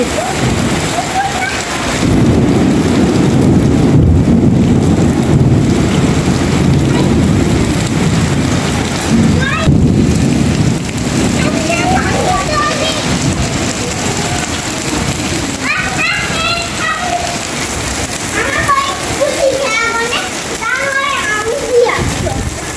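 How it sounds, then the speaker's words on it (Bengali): Heavy rain pours during a thunderstorm at evening iftar time, a dense steady hiss running throughout with children's voices and calls breaking through, busier toward the end. "ইফতারের সময় দেখেন কি পরিমাণ বৃষ্টি নামছে"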